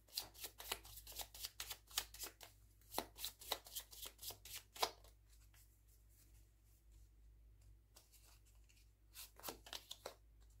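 Tarot cards are shuffled and drawn, a quick run of crisp papery flicks and taps, close and fairly quiet, then a lull before a few more soft card snaps near the end.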